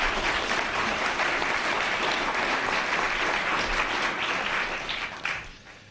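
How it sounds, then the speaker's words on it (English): Sustained applause from a luncheon audience at a journalism speakers' event, a loud, even wash of clapping that fades out in the final second. "And now you can give your applause."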